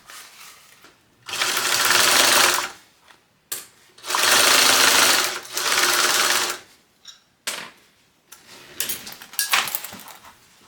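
A sewing machine bastes fabric pieces together in close, loud bursts of steady stitching. The runs stop and start with short pauses, and a few handling clicks and rustles fall between them.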